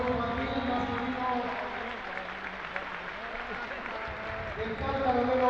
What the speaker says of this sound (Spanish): un aplauso al equipo infantil masculino